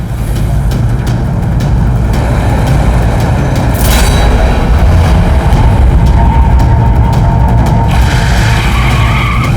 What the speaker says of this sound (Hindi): गाड़ी तेज भगाओ